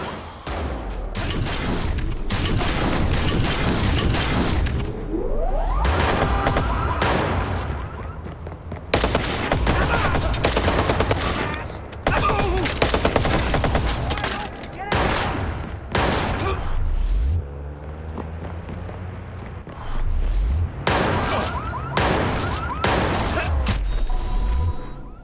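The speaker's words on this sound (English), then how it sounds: "That'll make the enemies go to you so that you can start shooting at them." Dense bursts of automatic gunfire and booms from a Watch Dogs firefight, loud rapid volleys repeating across the whole stretch with brief pauses between them and faint game voices mixed in.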